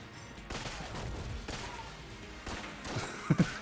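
Sniper rifle gunfire in Enter the Gungeon rings out as a series of sharp shots about one second apart amid busy game noise, ending with a few quick punchy hits.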